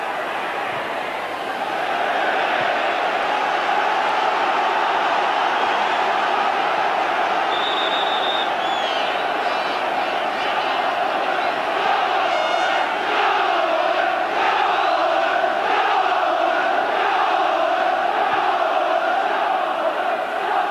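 Football crowd at an Oldham versus Manchester United FA Cup semi-final in 1990, a steady roaring wash of stadium noise with swelling chants and cries rising in the second half, continuous and distant.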